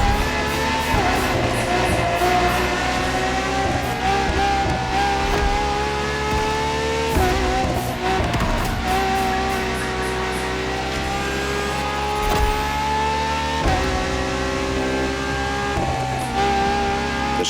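A Ferrari V12 hybrid supercar in the racing game The Crew Motorfest revs loudly and steadily, its engine note climbing and shifting through gears with sustained rich harmonics and brief dips between shifts, no voices present.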